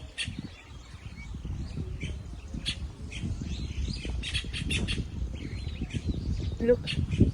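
Small bird chirping on a farm, scattered light tweets over a low rumbling background, with a voice nearby.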